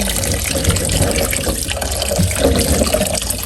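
Cut eggplant, squash and string beans are washed under running water, a steady close splashing and gushing from a tap into a basin with faint clinks of the vegetables.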